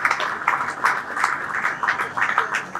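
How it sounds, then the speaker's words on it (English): Applause from an audience at an evening tribute event honoring a media mogul, steady mid-level clapping with irregular peaks throughout, fairly close and continuous. "a round of applause to Shola, please."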